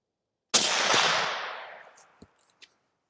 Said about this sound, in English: Let's find something to shoot here.